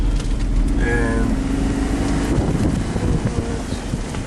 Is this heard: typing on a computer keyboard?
no